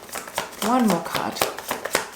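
Tarot cards being shuffled in quick riffling bursts, close by, under steady talking from a reader.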